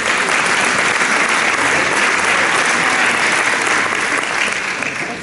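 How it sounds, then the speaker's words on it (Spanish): A crowd at a church gathering bursts into sustained applause, loud dense clapping that stays steady for several seconds before easing slightly at the end. "Aplausos."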